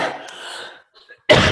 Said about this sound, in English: I forgot to go on mute before I coughed.